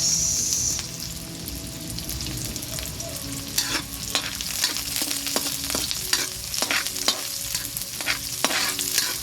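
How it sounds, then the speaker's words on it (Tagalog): Onion, chili and tomato sauté in a pan for a red kangkong and tofu dish, with a constant sizzle broken by repeated spatula scrapes and clinks against the pan, close and busy. "Ginisa na natin yung sibuyas"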